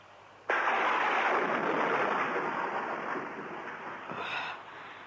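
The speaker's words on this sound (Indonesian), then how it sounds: "Hujannya kedengarannya besar sekali." Heavy rain pours down, starting abruptly as a loud, dense, steady roar that holds for several seconds and then cuts off.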